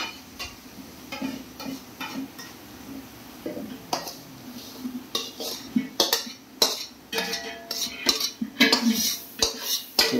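Metal utensil scraping and clinking in a pot while something thick is stirred, a steady series of sharp taps and scrapes at close range with no talking.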